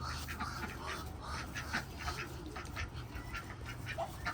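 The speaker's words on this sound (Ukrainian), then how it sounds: "Качка і каченятка" A duck and ducklings quacking in a noisy outdoor farm scene, repeated calls overlapping with steady background rumble and occasional voices.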